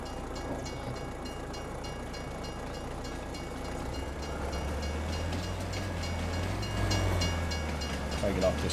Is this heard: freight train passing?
yes